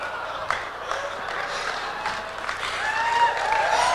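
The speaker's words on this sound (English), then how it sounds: "the ladies are cheering" A studio audience of women applauds and cheers on a late-night show, a dense, steady patter of clapping with scattered whoops and shouts, sustained and fairly loud.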